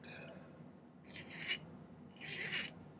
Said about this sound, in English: we'll file these guys nice and flat